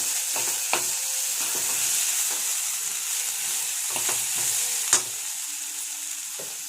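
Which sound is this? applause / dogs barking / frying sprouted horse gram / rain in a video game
frying sprouted horse gram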